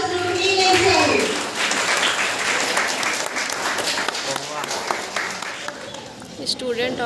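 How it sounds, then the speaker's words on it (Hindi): Applause from a crowd of children and adults at a school summer camp celebration, a steady loud wash of clapping throughout with voices calling out underneath. "तालियों की आवाज रुकनी नहीं चाहिए"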